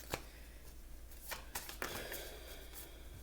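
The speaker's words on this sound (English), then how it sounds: "Okay, I'm shuffling upside down." Tarot cards being shuffled by hand, heard up close as a few quick riffling bursts and soft slaps, with quiet pauses between them and no talking.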